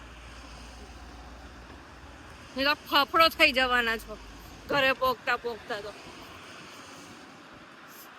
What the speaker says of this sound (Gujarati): પવન પણ બહુ જ છે